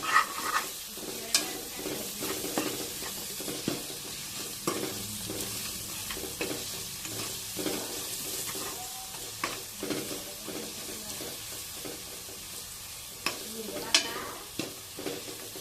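Mutton fries in a pan with a continuous sizzle, broken by repeated scraping strokes of a stirring spoon, close and fairly loud.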